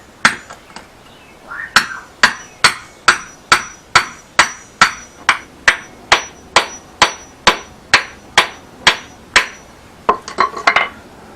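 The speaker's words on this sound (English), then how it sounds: "take a hammer and just bang on the pipe" About twenty sharp metallic hammer blows on a metal pipe, bending a steel bracket around it, ring out at a steady pace, close and loud, with a faster flurry of hits at the end; no voices.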